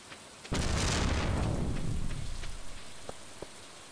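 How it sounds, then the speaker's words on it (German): Rain patters in the Stardew Valley video game, and a loud burst of thunder rumbles and slowly fades over a steady shower, followed by a few soft clicks, with no talk. "da es heute regnet"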